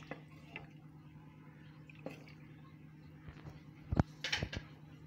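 Water heats in a cooking pot for vegetable rava kichadi with mint and coriander, giving scattered soft pops and bubbling clicks that grow busier toward the end over a low kitchen hum.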